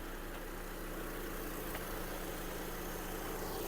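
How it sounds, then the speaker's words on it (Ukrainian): A Volkswagen Golf V 1.6 MPI engine idles evenly throughout, a steady, low hum with a constant droning tone and no speech. "робота двигуна."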